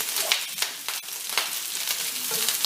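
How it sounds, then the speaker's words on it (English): Vegetables sizzle steadily as they are stir-fried in a hot pan, with a continuous close hiss broken by scraping stir strokes at irregular intervals. "As I stir fry these boys"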